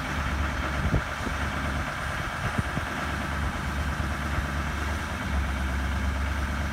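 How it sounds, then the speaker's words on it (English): A 2017 Duramax L5P diesel truck holds a steady fast idle after a cold start in subzero cold, a continuous low rumble running alone and evenly throughout. "There goes the fast idle."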